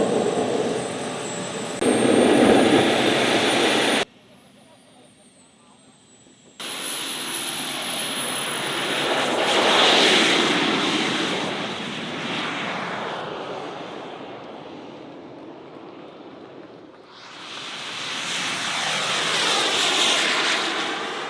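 An RC model Concorde jet flies at a jet-power model event. A loud, roaring turbine whine passes by and swells as it nears, with abrupt cuts in the sound and no talking.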